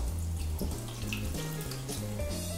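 About 300 millilitres of water are poured into flour for hot dog bun dough, making a close, continuous splashing trickle for a few seconds with no talk.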